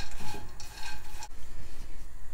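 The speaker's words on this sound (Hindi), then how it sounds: "जो ड्राई फ्रूट है इसको हम ड्राई रोस्ट कर लेंगे" Dry fruit dry-roasting in a small pan, a continuous scraping and stirring rasp with faint sizzle, steady and close throughout with no talking.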